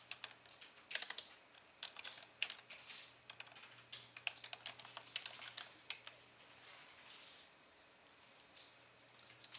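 Keys on a computer keyboard are tapped in quick irregular bursts while text is entered in Photoshop, the clicks soft and close against a faint steady hum, with no voice.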